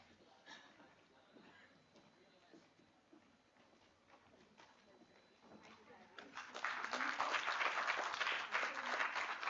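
At a corporate talk event, scattered faint clapping and murmurs swell after several seconds into full, dense audience applause that holds loud to the end.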